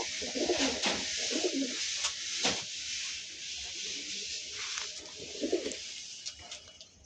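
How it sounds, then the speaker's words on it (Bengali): Pigeons coo in soft repeated rounds, close by, with light rustling and scattered clicks between the calls. "দেখতেই পাচ্ছেন পায়রা, দেখুন বন্ধুরা"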